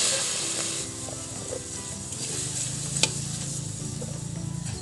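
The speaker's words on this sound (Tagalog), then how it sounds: "luto ko muna yung hipon sa asin para magkaroon ng lasa" Shrimp cooking in salt in a hot pan gives a steady sizzle with occasional scraping and stirring clicks, close and continuous with no voices.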